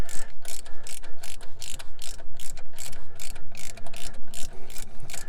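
Hand ratchet clicking in rapid repeated bursts while loosening 16 mm alternator bolts on a Jeep Wrangler Unlimited JK, close and fairly loud with no talking.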